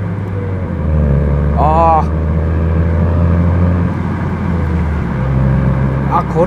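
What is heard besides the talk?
Honda Civic FK7 manual car engine during gear change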